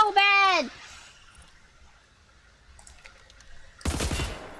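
A burst of gunfire from a weapon in the video game Wolfenstein, a loud dense rattle near the end following a shouted voice at the start and quieter background game sounds.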